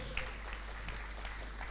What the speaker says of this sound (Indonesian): Tepuk tangan dong istri saya.